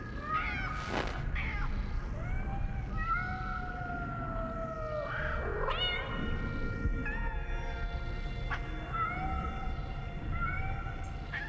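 A cat meows in the video game Nine Sols, several drawn-out, wavering cries repeating across the scene against a quiet ambient background.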